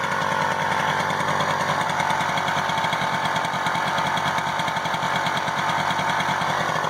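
A small moped engine runs at a steady idle, making a continuous, loud, rapid buzzing putter close by with an even pulse throughout and no talking.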